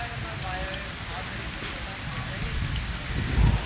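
Steady rain pours down in a continuous hiss, with a louder gust of rumbling noise near the end.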